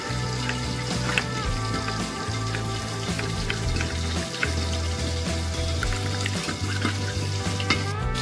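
Tangra fish pieces frying in hot oil in a pan, heard close up as a dense, continuous crackling sizzle with scattered pops and a low steady hum underneath, with no voices present.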